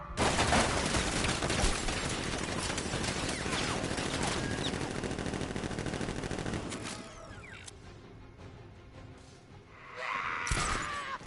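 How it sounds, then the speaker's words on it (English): Sentry guns firing in Batman: Arkham Knight, a loud sustained barrage of rapid automatic fire with crashing impacts for about seven seconds, followed by quieter debris and a brief metallic clatter near the end. "Activate sentry guns on my mark"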